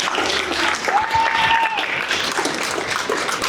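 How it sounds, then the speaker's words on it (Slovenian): An audience applauds warmly at an award ceremony for a Slovenian seed-relay movement, with steady, sustained clapping filling the room and a faint voice underneath. "Zasluži ves aplavz."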